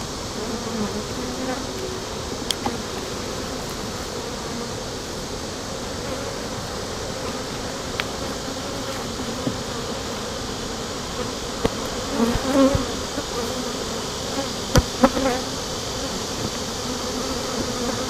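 Honeybees swarm around an opened beehive, a steady, close buzzing hum with scattered louder passes as individual bees fly near, and a few faint clicks.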